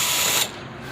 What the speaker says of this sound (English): I got a drill with a Phillips on it.